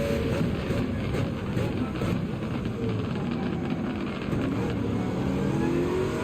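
Race car engine roar from a GT-One in Gran Turismo 7 at Fuji, a steady loud drone of engine and road noise that holds throughout with slight swells.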